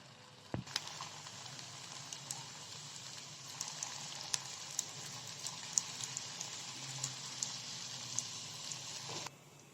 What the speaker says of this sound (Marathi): बारीक फ्लेमवर आपण हे दोन्ही साईडने छान तळून घेऊया